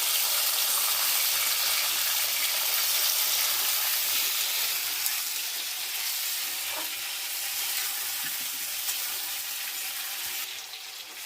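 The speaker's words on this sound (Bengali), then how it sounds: "ভেটকি মাছের কাঁটা থেকে যে চর্বিটা ছিল, সেটা আমি আলুর সাথে ভেজে নেব" Potatoes fry in fat rendered from Bhetki fish bones with a continuous, even sizzle and crackle, moderately close, with a brief stirring scrape and no talk.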